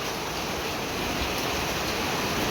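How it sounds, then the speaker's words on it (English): Steady, even rain hiss from a summer storm in Texas fills the space continuously, with no voices or breaks. "What a blessing for this rain"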